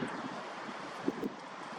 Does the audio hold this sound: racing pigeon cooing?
no